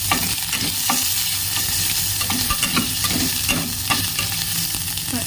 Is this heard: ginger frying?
yes